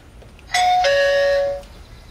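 A loud two-tone electronic doorbell chime from an RCA HSDB2A video doorbell, a ding-dong heard close up, lasting about a second and then fading.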